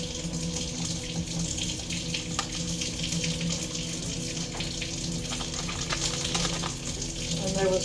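Hot water runs steadily from a kitchen tap to mix into a powdered glaze for baking, a continuous close splashing stream with a faint low hum underneath and no talking.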